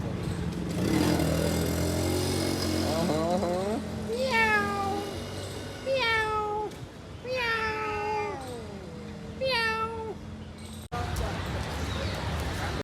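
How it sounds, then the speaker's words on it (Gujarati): Several cats meow repeatedly, their rising-and-falling cries coming one after another over background chatter and street noise. "બે ક્યુટ સી બિલાડીઓ"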